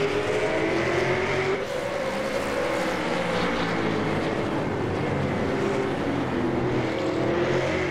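V8 Supercar race cars in a racing video game at the Montreal circuit drone steadily at high revs, and several engine notes overlap and shift pitch as the cars pass, forming one loud, continuous roar with no talking.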